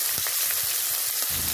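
Chopped onions hit hot oil in a pan and fry with a close, crackling sizzle broken by faint stirring taps, short and steady with no voices.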